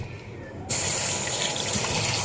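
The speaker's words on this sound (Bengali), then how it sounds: "চলো ধুয়ে নিই, একবারই ধোবো" Tap water starts running partway through to wash hilsa fish. A quiet start gives way to a loud, steady gush and splash into the sink, close by.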